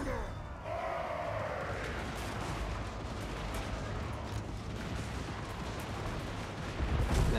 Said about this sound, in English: Flame cannon! Shoot him!